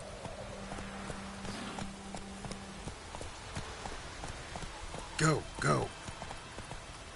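Roach the horse clip-clops along in The Witcher 3 video game, soft hoofbeats ticking at a steady walking rhythm under ambient patter, with two louder vocal bursts near the end.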